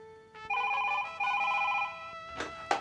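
A telephone rings with a steady electronic trill in two long bursts, fairly close and clear, followed by a brief clatter as the handset is picked up.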